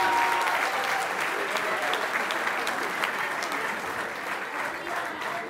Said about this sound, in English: Another nice round of applause to all the leaders and the funky dance dancers.